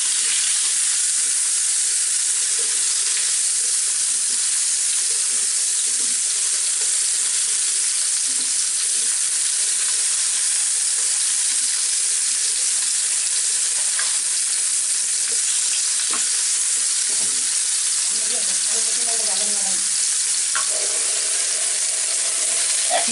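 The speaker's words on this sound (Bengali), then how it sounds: "এখন এর মধ্যে কয় পিস আলু কেটে রাখছি, নতুন আলু, এগুলা দিয়ে একটু ভেজে নিব" New potatoes fry in hot oil in a pan during fish curry preparation, a constant loud sizzling hiss up close with faint scraping and stirring now and then.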